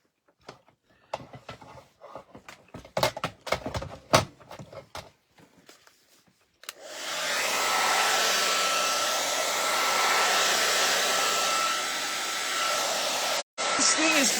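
A blow dryer used to dry paint on an abstract heart wreath starts after a few seconds of handling clatter and knocks, then roars loud and steady for the rest, briefly cutting out near the end.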